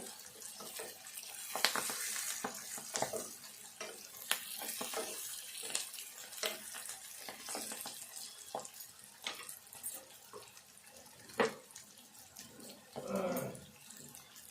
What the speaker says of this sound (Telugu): ఈ ఉల్లిగడ్డలతో పాటుగా ఈ మెంతాకు కూడా మంచిగా వేగాలి